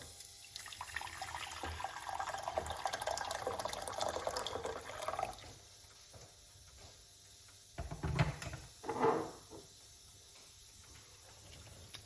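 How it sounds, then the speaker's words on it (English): Hot water poured into a cup for banana peel tea, a trickling, splashing stream for about five seconds, then quieter with a couple of short pours or clinks later. "1 cup of hot water."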